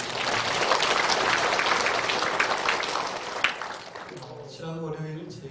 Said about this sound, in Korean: 단연학단을 위해서 박수 한번 쳐주세요.